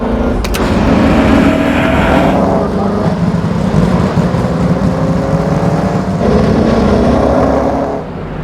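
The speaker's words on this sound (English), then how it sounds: "the sound of its thunderous 3-litre straight-8 engine" Loud, throaty Mercedes-Benz 300 SLR racing car with a 3-litre straight-eight engine running close by in London, rising and falling as it revs, with a deep, rough roar.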